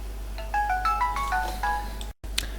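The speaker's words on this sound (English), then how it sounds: "my phone ringed" A mobile phone ringtone plays a bright, repeating electronic melody of quick stepped notes over a steady low hum, then cuts off abruptly with a brief drop to silence before a couple of faint tones follow.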